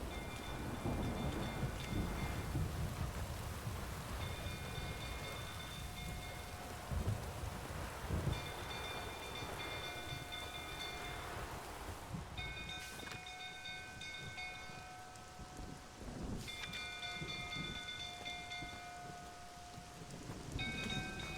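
A storm rages in The Witcher 3, with steady heavy rain hissing across surfaces and deep rumbles and cracks of thunder rolling through, while faint tonal chimes of music drift in and out over the downpour.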